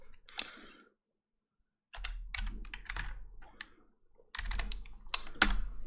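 Rapid bursts of clicky keystrokes on a German-layout computer keyboard, close and crisp, coming in two longer flurries separated by a short silence.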